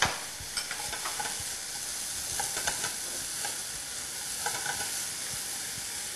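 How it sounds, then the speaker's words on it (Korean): Carrots and onion stir-frying in a pan with salt, a steady close sizzle and hiss with occasional scraping stirs, no voices. "이렇게 볶으시면서 소금 한 번 또 다시 넣어주시고요"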